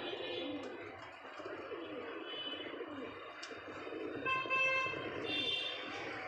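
Pigeons coo softly, with low repeated calls close by in a loft, under a faint ambient hum with a few brief higher tones and distant toots in the background.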